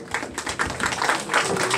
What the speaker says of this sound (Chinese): 我们掌声鼓励一下我们的快乐姐妹花的